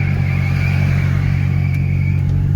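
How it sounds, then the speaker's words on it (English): A Mk2 car being towed with its tires screeching, a steady high whine over a loud continuous low engine drone, close and constant with no talk. "So we are towing the car and I think the tow is out, so the tires are screeching."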